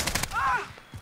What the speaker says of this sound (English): I got shot by my own teammate